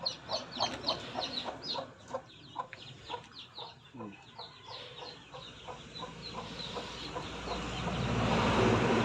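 Several hens cluck and squawk in repeated bursts, with one laying an egg nearby among a small flock of chickens, a steady outdoor hum rising toward the end.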